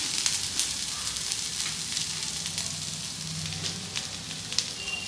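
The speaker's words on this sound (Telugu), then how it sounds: "ఆల్మోస్ట్ ఫిష్ కూడా ఫ్రై అయిపోయింది కదండి సో ఇలాగా ఇలా కొద్దిగా పెనంలోనే అలా ఫ్రై చేయాలి" Fish fry in a pan with onion paste, giving a steady, close sizzle with crackling pops throughout and no voices.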